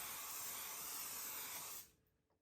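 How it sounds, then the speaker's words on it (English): Cooking spray hissing steadily from a can onto a casserole baking dish, a close, continuous airy spray lasting under two seconds before cutting off into quiet room tone. "We're pre-spraying this dish."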